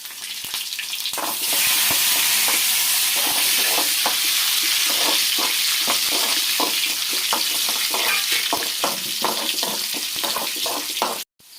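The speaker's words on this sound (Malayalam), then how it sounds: "ചെറുതായിട്ട് ഉള്ളി കട്ട് ചെയ്ത് വെച്ചതും കൂടി ഇട്ട് കൊടുക്കുകയാണ്. അത് നന്നായിട്ട് മൂപ്പിക്കണം." Chopped onions frying in a pan for Kerala pineapple pulissery, a loud steady sizzle with intermittent stirring clicks and scrapes, running alone close up before cutting off abruptly near the end.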